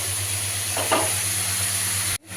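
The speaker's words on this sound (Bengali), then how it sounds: "ওই মাছের তেলে সোমবারা দিয়ে আলু বেগুনগুলো দিয়ে দিলাম" Potatoes and eggplant frying in fish oil with spices, giving a steady loud sizzle with a brief stir near the start before it cuts off abruptly.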